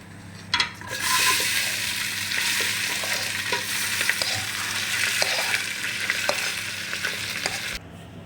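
Raw rice is dropped into hot oil with fried cashews for an egg and potato pulao, bursting into a loud, close, crackling sizzle with steady stirring scrapes and light clatters, then cutting off near the end; no talk.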